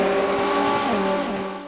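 Dodge Viper race cars in the rFactor racing sim roar loudly with a sustained engine drone, the pitch sliding down midway as a car passes or shifts, with faint tire noise and no talk.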